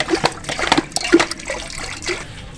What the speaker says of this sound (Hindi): अब हम इसमें 1 लीटर पानी शामिल कर देंगे पतीले में।